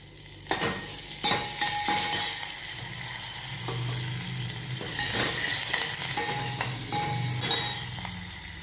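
Curry leaves crackle and sizzle in hot oil while tempering for amti, with sharp pops and a few stirring scrapes against the pan, close and steady.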